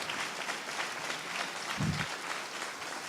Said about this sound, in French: une bonne main d'applaudissement au Seigneur pour l'Église